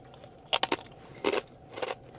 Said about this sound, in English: I'm gonna try the beaver chips with you guys